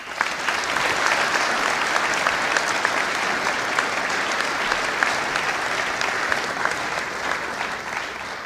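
An audience at a lecture on diplomats and defence attachés applauds in welcome of speaker Tim Fischer, a dense, steady clapping of many hands sustained evenly and fairly loud throughout.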